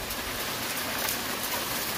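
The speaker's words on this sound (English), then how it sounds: "It's raining in San Diego." Rain falls during a late February storm with hail in San Diego. A constant dense hiss of drops fills the short stretch evenly, with no talking over it.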